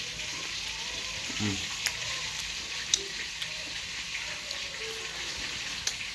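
Oysters coated in crispy fry batter frying in hot oil, a steady close hiss and crackle with small pops throughout and a brief murmur of talk.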